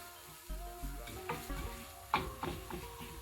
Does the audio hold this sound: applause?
no